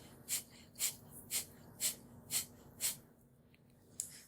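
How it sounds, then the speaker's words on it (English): Breath of fire pranayama done during a cold shower: six forceful, evenly spaced breath bursts, close and fairly quiet, then a pause and one more sharp breath near the end, over a faint steady hum. "I typically do a pranayama called breath of fire,"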